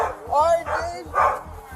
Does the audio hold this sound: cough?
no